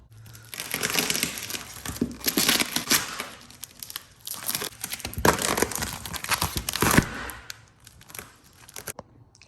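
Paint protection film peeled off a car's paintwork after heating, giving crinkly, tearing crackles in several loud bursts that swell and fade across the stretch, with no talk.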